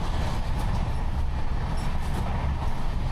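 An Indian Railways long-distance train running, a steady loud rumble and rattle of wheels and carriages heard from on board, continuous with no pauses.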